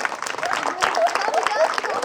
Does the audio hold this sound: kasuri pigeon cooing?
no